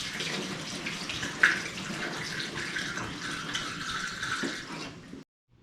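Liquid pours steadily into a 1979 Corvette engine in a continuous gurgling stream close by for several seconds, then stops abruptly.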